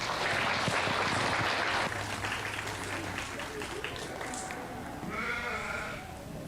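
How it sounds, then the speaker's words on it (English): Audience applause for kids showing sheep at the Wayne County Jr. Fair show arena, a dense sustained clatter of clapping that tapers off, with sheep bleating in the background. "Give these kids a round of applause."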